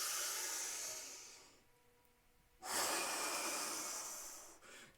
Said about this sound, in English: Deep inhale. Hard exhale.